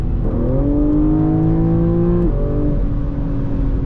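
A 2022 BMW M3 Competition G80 engine revs up loudly and steadily, then drops pitch as it shifts gear and keeps pulling. No voices.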